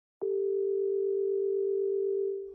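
A steady telephone dial tone sounds in an animated scene as a call is placed, a single clean pitched hum starting abruptly and holding for about two seconds before fading.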